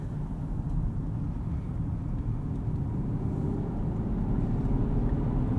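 A 2022 Rolls-Royce Cullinan driving down the road, heard from inside as a steady low rumble of road and engine noise, constant and even throughout with no talk.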